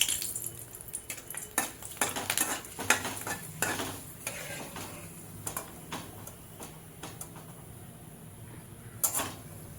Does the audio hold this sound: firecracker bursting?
no